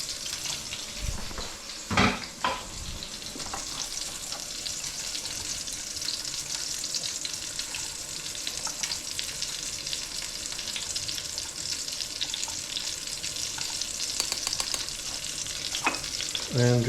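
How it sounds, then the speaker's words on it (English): A duck-breast sauce reduces in a pan, giving a steady bubbling sizzle throughout, with a few sharp clinks and scrapes of utensils against the pan and a brief rush like running water near the start. "My sauce is being reduced nicely"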